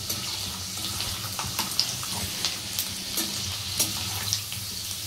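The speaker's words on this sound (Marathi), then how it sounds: "1 ते 2 मिनिटं आपण असे शेंगदाणे तेलामध्ये छानसे खरपूस होऊन द्यायचे आहे" Peanuts frying in hot oil for a Maharashtrian kanda poha, giving a soft, continuous sizzle and bubbling with occasional light stirring clicks, close but fairly quiet, and nobody speaking.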